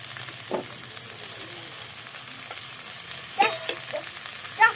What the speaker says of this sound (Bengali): পেঁয়াজ কুচি দিয়ে দিলাম পেঁয়াজ পাতা দিয়ে দিলাম বাঁধাকপি দিয়ে দিলাম